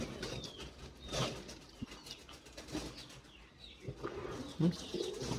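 Domestic pigeons with eggs and chicks coo softly amid faint wing flutters and rustling, with a quiet, roomy background.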